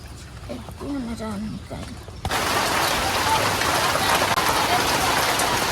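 A voice speaks briefly, then heavy rain comes in with a dense, constant hiss and patter that stays loud to the end.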